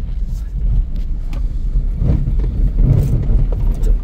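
A car on a driving lesson picks up speed, giving a low, uneven engine rumble with bumps and rattles from the cabin, fairly close and moderately loud, with no clear speech.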